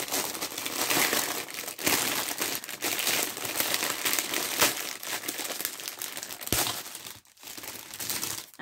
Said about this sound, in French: J'ouvre, je déchire et je veux voir ce qu'il y a dedans.